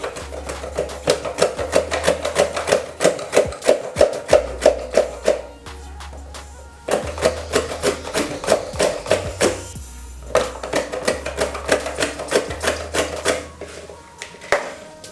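A knife cuts a peeled cassava tuber into very thin slices, making a steady run of close, sharp taps and cuts that come in bursts with short pauses between them.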